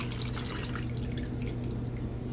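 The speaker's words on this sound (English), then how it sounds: "I'm letting it strain and pouring it into this quart-sized restaurant reusable container" Liquid and seeds strain and pour into a quart-sized reusable restaurant container, a close, steady trickle and dripping with a brief splashier start, continuous and alone.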